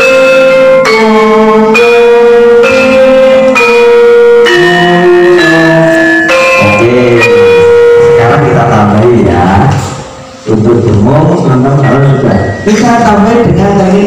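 Gamelan instruments such as ketuk and kenong struck with mallets, the right hand striking while the left hand damps. A regular series of ringing metallic notes is followed by people talking over further playing.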